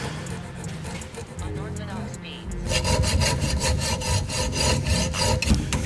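Offset M3 bushings being cut out of a BMW E36's lollipop brackets: a quieter start gives way to fast, rhythmic back-and-forth sawing strokes, close and fairly loud.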